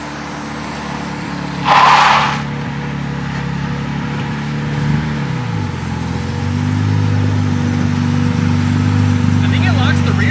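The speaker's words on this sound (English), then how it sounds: "Beau's over here testing the new brake setup on Mr." A Nissan 240 fitted with a 280 brake booster idles and drives in a shop during brake testing, its engine a steady hum that shifts pitch, with a brief hiss, while people talk throughout.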